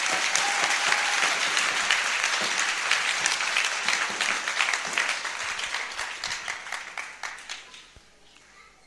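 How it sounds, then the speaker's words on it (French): Audience at an evangelism gathering breaks into sustained applause, a dense wash of clapping that slowly fades away near the end. "Clap for them."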